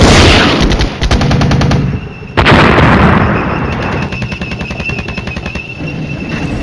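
Artillery bombardment mixed with rapid machine-gun bursts and explosions in the Flashpoint Campaigns wargame, loud and continuous, with dense repeated firing and a sharp blast partway through.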